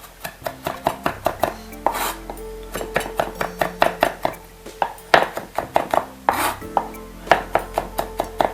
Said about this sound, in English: So we're gonna slice it like we did the apples.